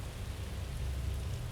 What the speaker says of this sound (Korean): 추적추적 계속해서 내리던 비가 밤이 되어서도 그칠 줄을 몰랐습니다